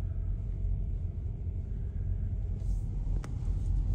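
A car drives south on a highway toward North Carolina, giving a steady low road rumble and tire noise from inside the cabin with no talking.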